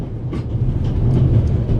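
Low rumbling rattle of a train running on rails aboard the Orient Express in the game The Raven Remastered, a continuous close drone with faint rhythmic clatter.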